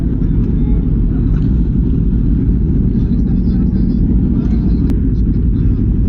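A Honda NM4 motorcycle gives off a loud, constant low rumble at close range, steady and unbroken, with a rider's voice talking over it.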